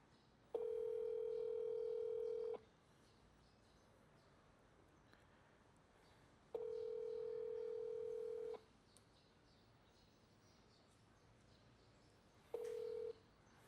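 Three steady two-second tones of a phone ringback on an unanswered call in Korea, evenly spaced about four seconds apart over quiet background, no voices.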